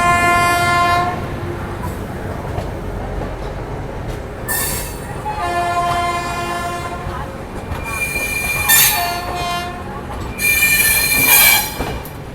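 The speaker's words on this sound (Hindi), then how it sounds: "अभी शताब्दी निकली है और अब थिरुकुरल एक्सप्रेस आ रही है।" The Thirukkural Express arrives at Agra Cantt station with loud, sustained wheel squeal from the rails and repeated bright screeching bursts over a rumbling train, heard up close, with faint voices in the background.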